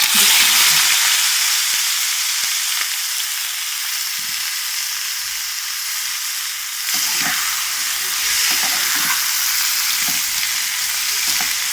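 Onions and potatoes frying in hot ghee, a loud, dense sizzle and hiss with occasional stirring scrapes, close and continuous, no talking.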